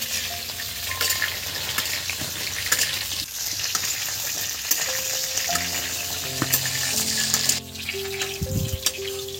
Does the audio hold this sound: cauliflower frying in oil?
yes